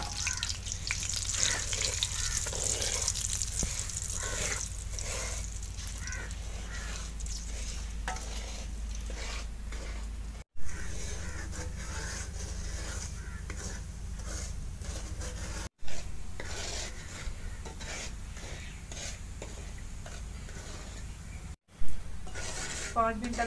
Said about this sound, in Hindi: अब हम सूजी डाल लेते हैं जिसकी 5 मिनट तक फ्राई करेंगे।